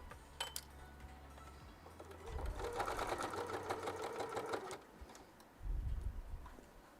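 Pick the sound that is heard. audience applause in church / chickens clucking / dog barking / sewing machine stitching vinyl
sewing machine stitching vinyl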